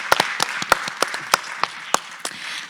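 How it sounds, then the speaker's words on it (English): Sparse, crisp hand claps from a small group at a regional symposium ring out irregularly, a few distinct close claps over a soft wash of light applause. "How about we also give a big round of applause to Ms. Adriana Alberti"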